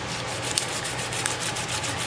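Sandpaper of 320 grit rubbing over a guitar's finish between coats, a steady close scratchy hiss with faint strokes and small ticks.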